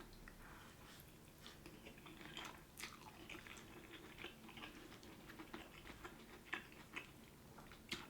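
Close, quiet chewing of crunchy spicy pad thai with fresh bean sprouts, a stream of small crisp crunches and bites at an uneven rhythm with no talking.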